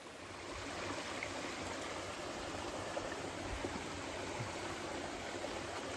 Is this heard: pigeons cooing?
no